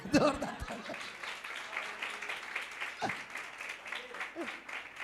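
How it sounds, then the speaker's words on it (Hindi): A crowd claps in sustained, steady applause for several seconds, with a few brief voices and laughs rising near the start. "एक मिनट तालियां बजाना"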